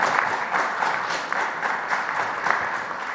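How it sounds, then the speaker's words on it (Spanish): Applause at a Mexican presidential press conference celebrating medals from the World Aquatics Championships, a sustained, even patter of many hands clapping across the room, steady and moderately loud without speech. "En el Mundial, un aplauso."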